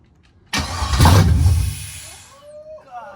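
An LS-swapped car with straight headers fires up for the first time: after about half a second of quiet, a loud, rough engine catch and rumble swells, then settles toward a lower idle as it fades.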